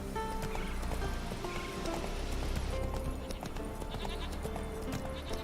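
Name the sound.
horse Roach's hooves clip-clopping, Witcher 3 video game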